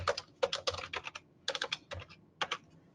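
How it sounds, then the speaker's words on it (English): Rapid keystrokes on a computer keyboard as a product name is typed, coming in quick bursts of clicks separated by short pauses, close and clear with no talking. "I'm going to type in product name"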